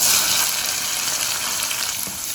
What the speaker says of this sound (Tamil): இப்போ இதில் ஒரு 100 கிராம் அளவுக்கு சின்ன வெங்காயமும் ஒரு 6-7 பச்சை மிளகாயும் சேர்த்துக்கிறேன்